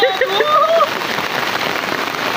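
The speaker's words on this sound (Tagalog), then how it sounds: "Lalakas ng ulan." Heavy rain pours steadily onto a surface outdoors, a dense continuous hiss of drops, with some brief tonal sounds near the start.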